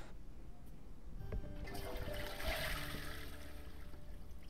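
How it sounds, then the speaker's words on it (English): A toilet flushing in The Sims 4, a steady rushing swirl of water lasting several seconds, moderately loud and heard on its own. "flush the toilet before I use it"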